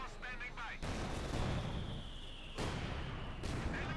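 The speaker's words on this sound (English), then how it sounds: "More mortar fire, there we go" Mortar fire from a Company of Heroes 2 match booms as repeated loud, broadband blasts in a dense, sustained barrage, with a voice briefly audible at the start.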